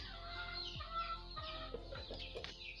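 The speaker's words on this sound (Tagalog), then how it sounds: "Manok." Several chickens cluck in quick, repeated bursts with a few higher squawks mixed in, close by and faint, with no voices.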